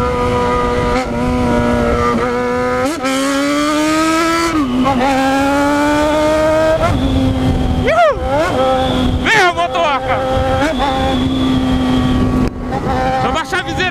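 A Yamaha XJ6 motorcycle being ridden, its engine loud and close, the tone climbing and dropping through repeated revs and gear changes, with wind noise buffeting throughout.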